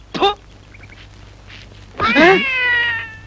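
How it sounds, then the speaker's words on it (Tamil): A cat meows loudly twice, a short sharp cry followed after a pause by a longer drawn-out wail, close and clear over a low steady hum. "பூனை குறுக்கால குதிக்குது."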